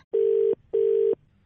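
A telephone line gives two identical steady electronic tone beeps after a call is cut, each about 0.4 seconds long with a short gap between, loud and clear with no talking.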